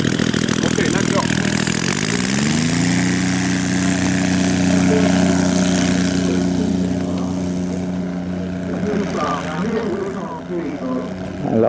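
A Bleriot model airplane's small engine drones steadily at a competition, its pitch climbing early on and then holding loud and near before easing off toward the end.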